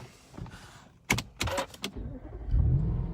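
An Audi RS4 fitted with an immobiliser is started: a brief burst of starter cranking and clicks leads into a low engine rumble that swells and settles near the end, close and fairly loud.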